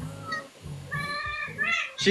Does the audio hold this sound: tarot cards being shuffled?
no